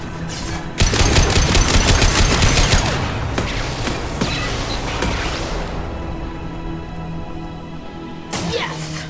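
In the video game Mass Effect 2, an overridden turret lets loose a loud burst of rapid automatic fire for a few seconds. The shots thin into scattered, echoing hits, and one short burst comes again near the end.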